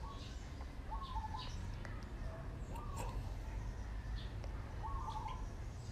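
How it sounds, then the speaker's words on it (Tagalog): Pet pigeons at a home coo softly a few times, faint low calls spaced a couple of seconds apart over a steady low rumble. "ito nga pala yung mga kalapati ko"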